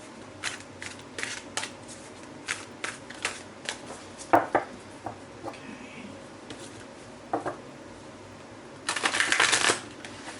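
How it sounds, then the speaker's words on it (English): Cards being shuffled up close, a series of sharp snapping riffles followed by a longer fluttering burst near the end, no talking. "I'm going to want to shuffle the cards really good today"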